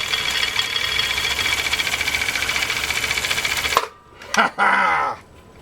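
Husqvarna Viking Type 21 sewing machine stitching leather, a fast steady mechanical whir and rapid clatter running loud for nearly four seconds before stopping abruptly, followed by a couple of short bursts.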